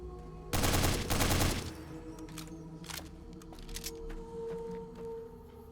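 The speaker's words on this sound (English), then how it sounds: "Bozar. Automatic sniper rifle," The Bozar automatic sniper rifle fires in a modded Fallout game, a loud rapid burst of automatic shots lasting about a second, followed by quieter scattered clicks and game ambience.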